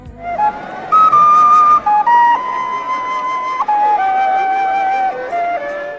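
A few notes of a theme from the film Octopussy, played as a clear whistled or fluted melody of held and gliding notes over a faint musical backing, with no talk.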